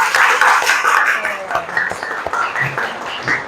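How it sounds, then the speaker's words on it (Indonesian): Schoolchildren in a maths classroom clap together at the teacher's prompt, a loud burst of mixed clapping that thins into scattered claps, with young voices calling out over it. "Tepuk tangan untuk kita semua."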